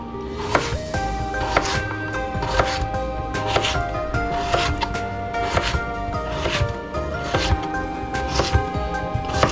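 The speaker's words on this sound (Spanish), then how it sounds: "vamos a partirlas a la mitad y vamos a hacer cuadritos o picarla al gusto de cada quien" A kitchen knife chops potatoes into small cubes on a cutting board for a Spanish potato tortilla, a steady, close series of crisp knocks repeating roughly every half second, with faint talking underneath.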